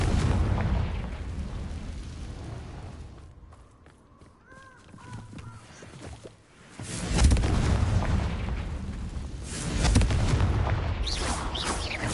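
A Confringo blasting spell in Hogwarts Legacy erupts in heavy, roaring explosions, a loud blast at the start, a quieter lull with faint tones, then two more booming bursts rumbling close.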